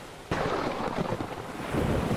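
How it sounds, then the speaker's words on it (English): A storm sound effect for a ship at sea: a sudden crack of thunder opens into a steady heavy roar of pouring rain and rumbling, loud and continuous with no talking. "Soon the waves and the thunder began to die off, but the rain kept pouring down."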